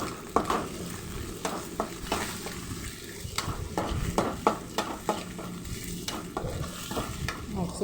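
Eggs frying with chopped onions and green chillies in a pan for egg rice, with a steady sizzle broken by repeated scraping stir strokes at an uneven rhythm, close and moderately loud, with no talking.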